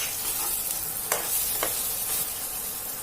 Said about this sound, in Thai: น้ำมันนะคะ ประมาณสองช้อนโต๊ะค่ะกระเทียมที่เราสับไว้ลงเลยค่ะ